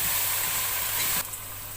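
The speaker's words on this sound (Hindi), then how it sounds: "हल्की आंच पे थोड़ी देर भून लेंगे" Garlic paste frying over low heat in a pan after browned onions, a steady broadband sizzle that drops off sharply near the end, no talk.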